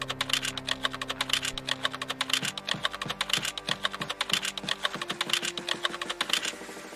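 Someone types quickly and steadily on a computer keyboard while entering column headings in a spreadsheet on a computer. The keys clatter close and clear, with no talking, over a low background hum.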